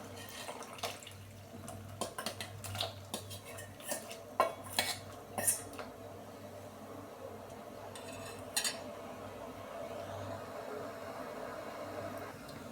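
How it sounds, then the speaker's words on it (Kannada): Cooked radish is tipped into a pot of boiling saaru in a home kitchen, making a series of sharp utensil clinks and pot knocks over a soft, steady bubbling hiss. No one speaks. "ಅವಾಗೆ ನಾವು ಮುಲ್ಲಂಗಿ ಬೇಯಿಸ್ಕೊಂಡಿರೋದನ್ನು ಹಾಕ್ಕೊಳ್ತಾ ಇದ್ದೀವಿ"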